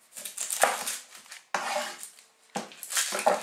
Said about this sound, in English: And you will cut the edges off with your knife, just like this.